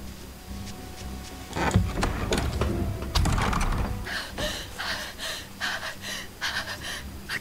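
Character in Tales of Berseria panting hard while sprinting at triple run speed, a steady run of breathy gasps over clattering footsteps and game ambience.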